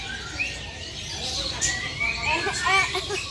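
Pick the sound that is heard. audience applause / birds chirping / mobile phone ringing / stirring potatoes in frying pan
birds chirping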